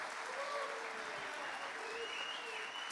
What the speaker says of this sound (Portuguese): Palmas para eles também.